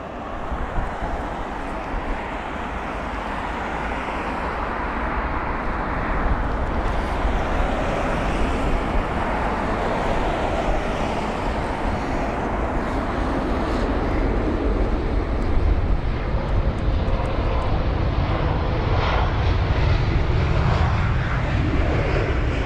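A British Airways Airbus A320-200, 22 years old, arriving at London Heathrow: a loud, continuous jet engine roar that swells gradually over more than twenty seconds, with broadband rumble and no speech.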